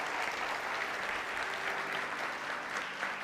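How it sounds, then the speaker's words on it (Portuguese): A church congregation applauds during a sermon, a faint, even wash of many hands clapping that holds steady from start to end. "Você pode aplaudir ao Senhor por isso?"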